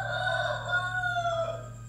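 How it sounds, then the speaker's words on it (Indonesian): A rooster crows one long, drawn-out call at dawn in a village, fairly near and clear over a low steady hum of background noise. "subuh-subuh gini emang banyak ayam yang berkokok"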